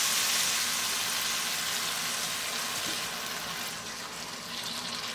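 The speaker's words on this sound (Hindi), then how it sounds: "अब इसमें पानी शामिल करेंगे।" Water, about a quarter cup, is poured into a pan of chicken cooking with a chicken stock cube and cumin powder, making a steady broadband hiss and sizzle that eases slightly near the end, with no voices.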